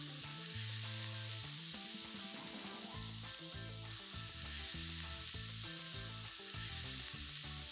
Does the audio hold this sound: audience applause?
no